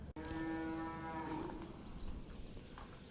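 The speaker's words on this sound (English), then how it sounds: "some of our Mennonite neighbors just dropped off their cows" Cows in a field give a single clear moo lasting about a second and a half. It sits fairly close and quiet against a low outdoor background.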